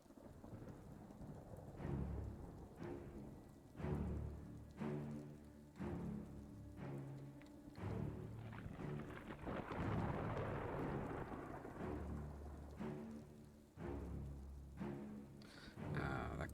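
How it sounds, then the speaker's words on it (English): Rain falls steadily while low thunder rolls in and out, forming a quiet ambient sound effect for a tabletop game session, with no voices. "There's the rain."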